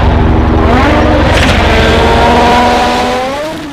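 Loud race car engine sound effect from a toy race car, revving up with rising pitch and then fading out, with no voices over it.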